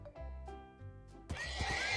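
A horse neighs in a Minecraft game with a TNT mod, a loud harmonic whinny over game music, followed by a burst of broadband noise near the end.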